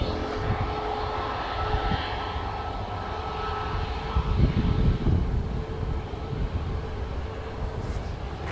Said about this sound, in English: Ryanair spooling up and making their way onto the runway.